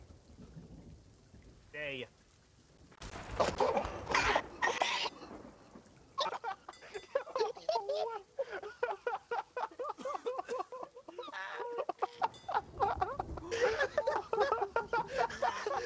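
Rain falls steadily in a Sea of Thieves thunderstorm, with rumbles of thunder and a hiss that mostly sits under people talking and laughing.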